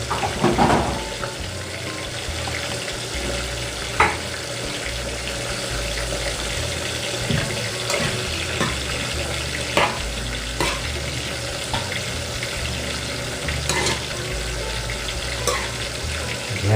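Tomatoes cooking in a pan for ginisang bunga ng malunggay, a Kapampangan dish: a steady sizzle and bubbling with occasional stirring clinks and scrapes, close and continuous throughout, with no talking.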